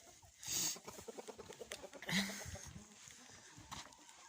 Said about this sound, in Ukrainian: Ось кури вечеряють